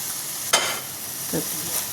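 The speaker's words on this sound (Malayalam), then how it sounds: "മുളക് പൊടിയും നല്ലോണം വഴറ്റണം കേട്ടോ" Chili powder, coriander powder and masala sautéing in a hot pan. A spatula scrapes and stirs twice over a steady, fairly loud frying sizzle.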